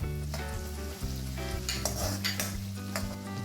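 Garlic and ginger fry in hot oil in a pan for chilli chicken, a loud continuous sizzle close up with scraping stirring strokes and light utensil clinks.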